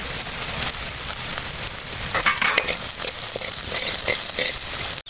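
Onion, green chilli and garlic fry in a hot pan with a steady, close sizzle throughout, broken by a few light clicks of stirring and a brief pause at the very end.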